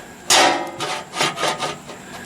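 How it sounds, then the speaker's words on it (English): A metal pan is set down over a small pork loin on a smoky grill, giving a sharp clank followed by several softer scraping knocks as it settles. "I'm going to cover it with this pan."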